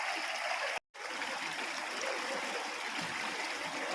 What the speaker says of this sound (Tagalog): yung ilog, malakas yung agos